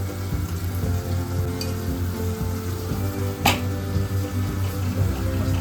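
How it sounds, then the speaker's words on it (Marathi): Bhakri flatbread cooks on a hot griddle with a soft, steady sizzle, a low hum underneath and a faint clink partway through. "तव्यावर भाकरी गेलेली आहे"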